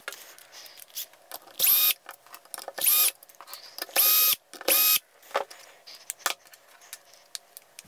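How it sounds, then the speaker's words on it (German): A cordless screwdriver backs screws out of an RC car differential in four short whirring bursts with pauses between, plus small clicks and handling noises of the part and tool. "Dann nehmen wir jetzt doch schnell einen Akkuschrauber hier."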